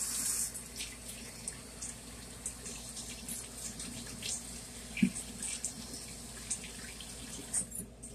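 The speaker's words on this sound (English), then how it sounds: "Wash my hands right quick." A kitchen tap runs steadily while hands are washed beneath it, a soft continuous splash at moderate distance with small bumps and drips, no talking over it.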